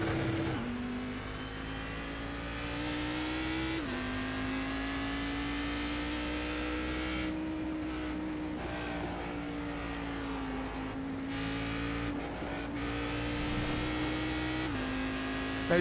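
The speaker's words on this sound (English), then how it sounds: "Listen to these cars." Indy NXT race cars lapping Indianapolis Motor Speedway in the iRacing sim give a continuous high-revving engine drone with brief shifts and dips in pitch, steady and close, with no voices.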